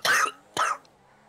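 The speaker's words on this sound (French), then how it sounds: "quand tu tousses, mute toi" Two sharp, loud coughs close to the microphone, a short pause between them, followed by a faint trailing breath.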